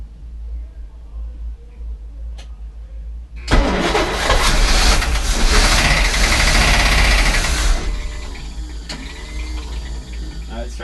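A Chris Craft 454 boat engine that has sat for ten years cranks and catches, running loud and rough for several seconds before dropping back to a lower idle, with voices faintly present.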